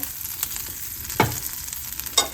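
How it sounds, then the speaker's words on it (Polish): Butter melts in a hot frying pan before eggs go in for an omelette: a soft, steady sizzle close by, with a couple of brief clinks or scrapes and no talking. "Masełko się rozpuszcza i teraz zmniejszę troszeczkę gaz."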